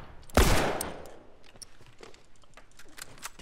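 Gunfire in The Last of Us multiplayer, with one loud, close shot followed by a decaying burst, then scattered quieter shots and impacts trailing off.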